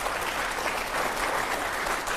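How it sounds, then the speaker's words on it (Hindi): Steady, dense applause from a large television studio audience fills the whole stretch, even and sustained without any talking. "जोरदार तालियां हो जाए जरा एक बार"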